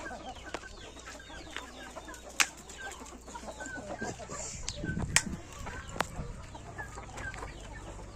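Chickens cluck and chatter in short scattered bursts nearby, with people talking quietly in the background.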